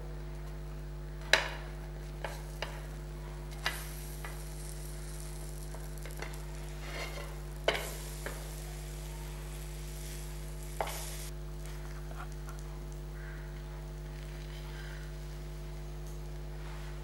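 Chocolate chip pancakes frying in a pan, a steady low sizzle with a few sharp clatters and scrapes of a spatula as they are flipped, no talking.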